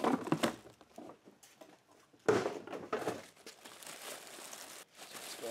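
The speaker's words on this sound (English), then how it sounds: "let's go ahead and pull this plastic off" Plastic wrap is pulled off a new Walmart Mainstays 8-inch retro-styled table fan, giving close crinkling and tearing rustles in several bursts, loudest in the middle, with no talking.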